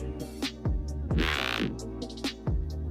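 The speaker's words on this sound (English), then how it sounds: "there is this really annoying OTT feedback noise because of the amount of OTT we were using" A dense, gritty synth growl with pulsing low bass hits and a hissy, noisy wash of OTT compressor feedback over the top, loud and continuous.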